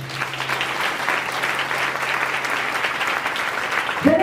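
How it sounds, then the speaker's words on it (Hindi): A church congregation at a Sunday special meeting claps loudly in a steady, dense roar of applause that runs throughout, ending as a voice cuts in at the close. "तालियां कस के लगाना चाहिए।"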